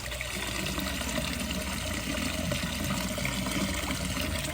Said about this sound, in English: it's now going to be overflowing the top.